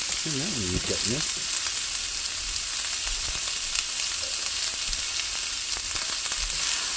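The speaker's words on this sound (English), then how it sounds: "we're going to saute these onions, these peppers" Onions and peppers sauteing in a pan, a continuous loud sizzle and crackle with occasional stirring clatter, close up and steady throughout, with a brief voice early on.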